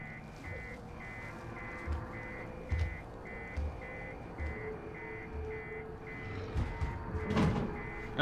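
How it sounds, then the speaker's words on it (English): The motion tracker in the Alien: Isolation video game beeps in a steady, evenly spaced series of short high tones over low game ambience, with heavier rumbles and thuds near the end. "I'm pretty sure they can hear the beeps from that."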